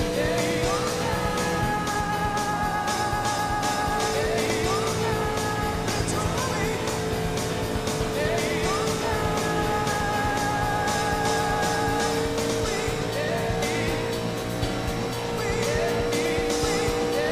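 Race cars in the arcade game Daytona USA roar continuously at high revs, the engine drone steady and loud with shifting pitch and occasional tire noise, layered with game music throughout.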